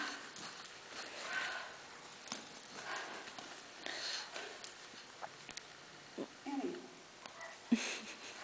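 Horse hooves clip-clopping on a lap of a riding arena, a steady rhythmic patter of footfalls at moderate distance with soft snorting and breathy background noise, fairly quiet overall.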